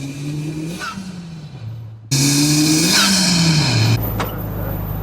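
A car descends a hill at Watson's Bay, its engine note rising and falling in a steady loud drone with a sharp jump in level partway through, alone without talk.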